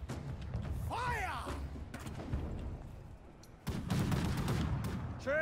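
Pike guard troops in the Conqueror's Blade game fire a volley: scattered distant gunshot cracks and thuds amid battlefield noise, with shouted commands and rising whistling tones mixed in.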